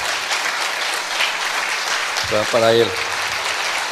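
Church congregation applauds steadily throughout, a dense wash of clapping with a voice speaking briefly over it near the end.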